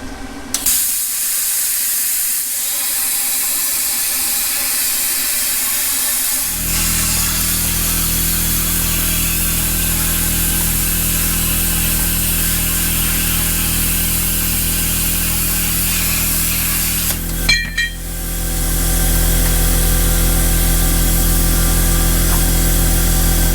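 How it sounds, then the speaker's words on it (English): A plasma cutter slices steel supports for a 1967-69 Camaro or Firebird subframe: a loud continuous hiss and buzz runs nearly throughout, with a brief break and crackle near the end, and no talk. "We got it held down tight and use the plasma to cut it."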